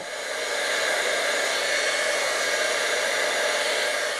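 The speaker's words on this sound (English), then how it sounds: "I'm going to heat set it with my heat tool" Heat tool blowing hot air to set white embossing powder on a card sentiment, a steady loud close rushing whoosh like a hair dryer that rises quickly and holds without a break.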